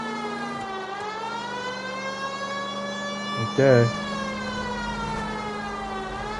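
A police car siren in the video game LA Noire wails steadily through the whole stretch, its rising and falling harmonic tone constant and loud, with someone talking briefly over it and a short burst of noise midway.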